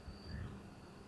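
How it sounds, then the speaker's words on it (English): Faint, steady chorus of frogs calling in the distance at night in Middletown, New York, on November 1st, a dense continuous trill with no voices. "it still sounds like summertime. I can still hear the frogs."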